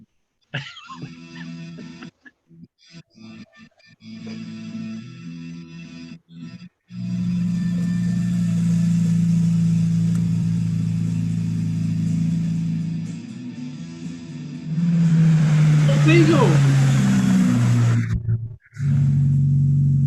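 A Mk2 Volkswagen Golf 8-valve engine rumbles loudly nearby, idling unevenly before revving up into a sustained, throaty roar, then dropping and surging again.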